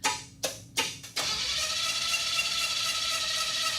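A junkyard Chevy Tri 5 engine cranks in three short bursts, then catches and settles into a steady, loud, close running idle with a constant hum.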